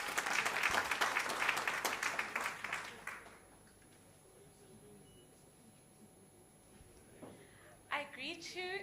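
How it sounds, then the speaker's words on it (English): Audience at a teachers' research colloquium claps for a speaker, a dense burst of applause for about three seconds that fades into quiet room tone, with voices and a few stirrings afterward. "Clap hands for her."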